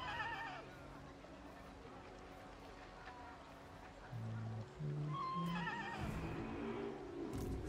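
Horse in the Total War: Warhammer 3 video game neighing with a couple of short whinnies midway, over a low battlefield background of rumbling and hooves, with faint game ambience throughout.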